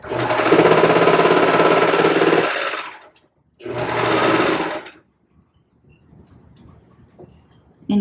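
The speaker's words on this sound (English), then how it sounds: "Turn this bad boy on, and I'm going to serge along those edges." A serger overlocks the edges of baby leggings fabric, a loud, fast, buzzing stitch run of about three seconds, then a shorter burst after a pause, followed by quieter handling sounds.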